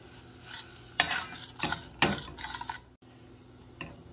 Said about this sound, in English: So I'm going to break this up, get it stirred in.